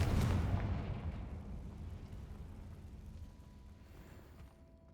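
A booming fire-spell blast in Hogwarts Legacy: one heavy explosive burst at the start, then a long rumbling tail that fades gradually, with no voices.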